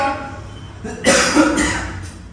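A short burst of coughing at close range, set off by fumes from grinding dried chillies, with a couple of harsh coughs close together and some faint voice around them.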